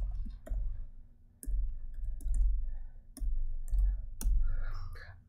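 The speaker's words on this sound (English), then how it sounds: "I'm going to type in my prompt and hit enter" Computer keyboard being typed on to enter a text prompt, a fast, uneven run of light clicks and taps with brief pauses, close and fairly quiet, with no talking.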